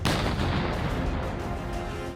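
A boat blows up in a concussive burst of smoke and flying debris during a game challenge, one loud sharp blast at the start followed by a decaying rumble.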